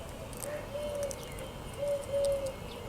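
Birds call outdoors in a kale garden in the morning, with soft cooing notes like a pigeon or dove repeating a few times over steady background noise.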